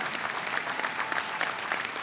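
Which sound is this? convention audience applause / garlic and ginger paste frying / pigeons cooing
convention audience applause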